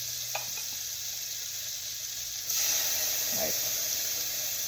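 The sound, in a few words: garlic sizzling in melted butter in a pan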